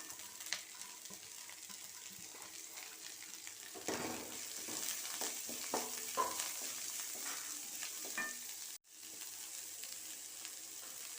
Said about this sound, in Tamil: கொஞ்சமாக உப்பு சேர்த்து வதக்கிக்கலாம் காய்கறி நல்லா வதங்கிடுச்சு